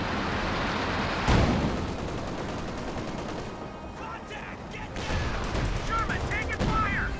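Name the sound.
machine gun fire in a video game, Company of Heroes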